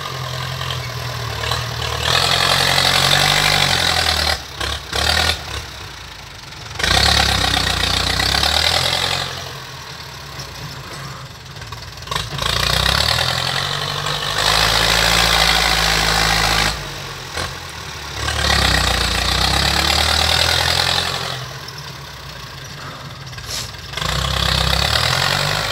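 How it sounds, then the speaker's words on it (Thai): Ford New Holland 5000 single-axle farm tractor idling, a steady low diesel throb with periodic louder surges and brief dips, close and continuous with no talk. "มาดูรถไถฟอร์ดครับ"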